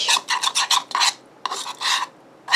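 Rhythmic scraping strokes of a spoon through thick, sticky slime mixture, fast repeated swishes with short pauses, close and clear, no voices.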